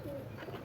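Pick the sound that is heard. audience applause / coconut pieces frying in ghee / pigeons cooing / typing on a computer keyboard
pigeons cooing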